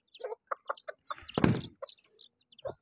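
Village chicken clucks in short, soft bursts out in the open, with faint scuffling between the calls and a louder rustle partway through.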